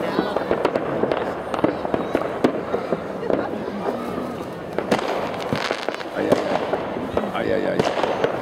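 New Year fireworks at Kauhajoki, Finland, a rapid series of sharp bangs and crackles bursting one after another, loud and fairly close, with people talking and calling out in the background.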